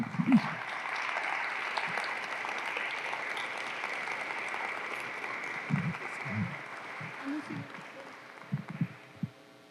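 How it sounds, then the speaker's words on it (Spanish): A congregation at a Christian family-themed program gives sustained applause to Jesus, a long, even roar of clapping that fades gradually, with a few low thumps scattered through it. "Dale un fuerte aplauso a Jesús."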